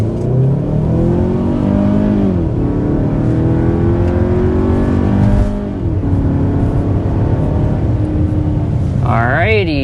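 A 2027 Kia Telluride accelerates hard from 0 to 60 mph, the engine note climbing through several gear changes in loud, close in-cabin sound, with a voice speaking over it near the end.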